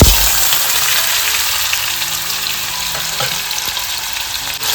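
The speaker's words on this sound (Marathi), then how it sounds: "तर इकडे ना आता आपल्याला बटाटे सुद्धा फ्राय करून घ्यायचे आहेत." Potatoes fry in a pan with a steady, loud sizzle and faint crackles throughout, heard up close with no voices.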